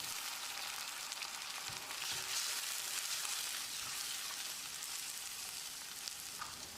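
Chopped tomatoes drop into a pan of sautéed onions for a mint egg gravy, giving a steady, close sizzle and frying hiss with faint stirring and no voices.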